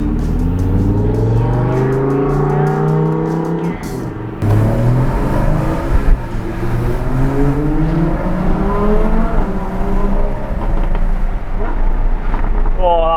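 A Porsche sports car engine revs up and accelerates through several gear changes, loud and close, the pitch rising and dropping with each shift.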